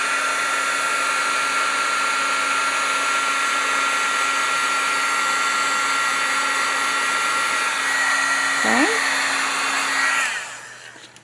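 A heat tool blasts steadily to set stamped ink on a card, a loud continuous whirring hiss that shifts briefly near the end before cutting off.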